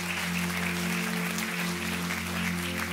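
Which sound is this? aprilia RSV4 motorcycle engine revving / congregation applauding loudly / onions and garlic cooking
congregation applauding loudly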